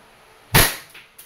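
A WE Airsoft Glock 34 Gen 4 gas pistol fires a single sharp, snappy crack, followed by a quick faint mechanical click and a smaller tick from the cycling slide.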